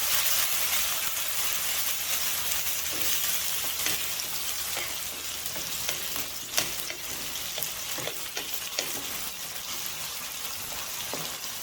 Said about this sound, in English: Now we will add 3 to 4 chopped tomatoes.